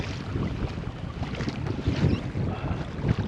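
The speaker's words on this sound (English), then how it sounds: "Yeah, that water's starting to get choppy again." Choppy saltwater slaps around a fishing kayak in stormy conditions, a dense, close rush of lapping water mixed with gusty wind buffeting the microphone, steady and unbroken throughout.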